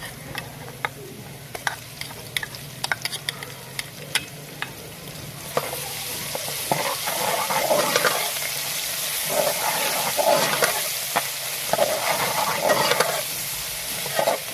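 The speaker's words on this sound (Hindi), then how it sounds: "अब हम इसमें डाल देंगे लहसुन अदरक का पेस्ट, हरी मिर्च का पेस्ट।" Garlic, ginger and green chilli paste fry in a pan with a steady sizzle, scraping and stirring, occasional clinks of a utensil, close and moderately loud with no talking.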